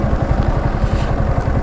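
A motorcycle on a scenic ride near Kolaghat rumbles close and loud with a steady, pulsing engine throb, heard alone during a brief pass.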